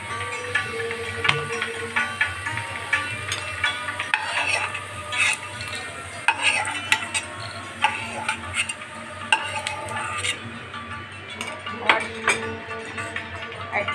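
Bitter gourd pieces fry in oil for Bengali shukto, a continuous close sizzle punctuated by frequent utensil scrapes and clinks from stirring, with no voices over it.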